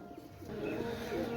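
Pigeons coo faintly in a low, soft, rolling murmur that continues through the short moment over a quiet background.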